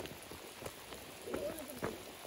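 Rain falls near the sea on Gotland, a faint steady patter with a few sharper drops and splashes over a soft hiss, quiet and close.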